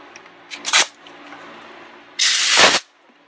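Compressed air from an air gun hisses in two sharp blasts, a short one then a longer one, blowing carbon buildup out of a 6.0L turbocharger from a 2004 Ford F-250 during a rebuild.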